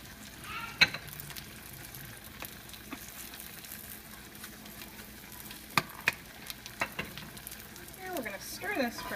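Garlic with a little salt and pepper frying in a pan, giving a steady sizzle with sharp clicks of a utensil stirring and scraping; a voice briefly speaks near the end.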